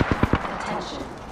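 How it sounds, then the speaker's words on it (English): A quick burst of four rapid gunshots in the video game Apex Legends, loud and evenly spaced, trailing into a noisy decaying reverb and game ambience. "Opening fire on the enemy."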